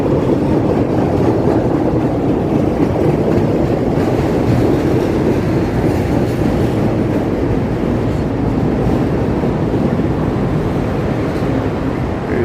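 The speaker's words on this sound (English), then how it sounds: "You hear the train coming underneath, above us here." An elevated Chicago train rumbles steadily close by overhead, with a continuous rolling roar and faint rhythmic clatter from the rails throughout.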